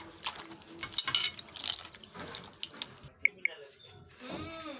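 Chopped bitter gourd mixed with water is squeezed by hand, giving wet squelching and splashing with dripping trickles, while a voice talks over the wet handling sounds throughout.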